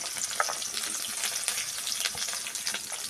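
Mustard seeds, garlic and green chili fry in hot oil: a dense, steady crackling sizzle with scattered sharp pops from the seeds, close up and continuous without talk.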